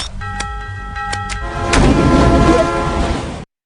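A car hitting the player in the video game Crossy Road: a few sharp clicks, then a loud crunching impact that fades into a noisy rumble before stopping abruptly.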